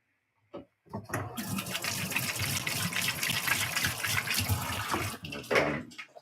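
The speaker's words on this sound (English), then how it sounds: "Got to wash my hands." Tap water runs steadily into a sink for hand washing, starting abruptly after a brief knock, a close, loud gushing stream that carries on for several seconds before a small splash change near the end.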